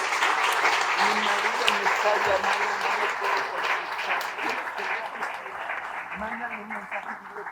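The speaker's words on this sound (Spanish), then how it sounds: "Un aplauso, por favor, para Beatriz Pajés." Audience applause at a citizenship and democracy forum in Kanasín, Yucatán, a broad steady wash of many hands that slowly thins out, with faint voices murmuring underneath.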